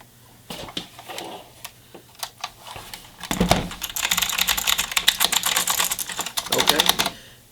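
Fingers type on a LESHP mechanical LED gaming keyboard, with scattered clicks at first that build into a rapid, loud clatter of keystrokes close by.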